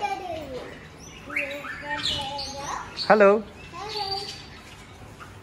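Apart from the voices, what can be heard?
lorikeets and parrots calling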